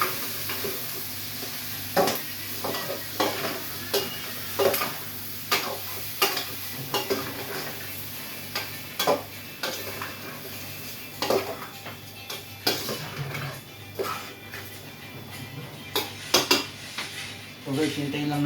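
A ladle stirs pork sinigang in a casserole pot with repeated metal clinks and scrapes against the pot, while a faint sizzle runs underneath, close and irregular.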